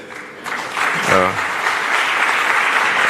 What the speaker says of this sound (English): let's applaud him and wish him all the best